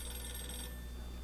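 An old telephone rings in the horror game Visage, a bright electronic trill that cuts off partway through over a low steady hum, with no one speaking.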